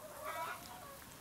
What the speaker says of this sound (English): Volker Elsenhans begins his inspection in the open-air enclosure for 700 laying hens.